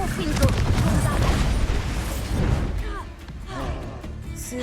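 Spells Confringo and Bombarda blast in Hogwarts Legacy, a dense run of booming, overlapping explosions with heavy low rumble and crackling debris, easing slightly toward the end, with a voice in the mix.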